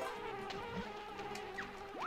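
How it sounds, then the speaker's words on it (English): A swarm of bees buzzes in Banjo-Kazooie, a faint, continuous insect drone with wavering whines over looping game sounds. "The bees are actually coming."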